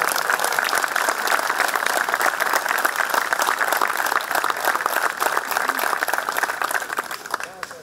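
Sustained applause from an audience at a political speech in Gjorče Petrov, dense steady clapping filling the whole stretch, with faint voices mixed in and a slight fade at the end.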